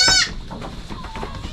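A goat gives one short, loud bleat close by in a backyard, followed by softer scattered farmyard sounds.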